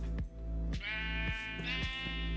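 Sheep bleating in Minecraft, a few drawn-out harmonic bleats following one another in a continuous run, near and loud over a low steady game background.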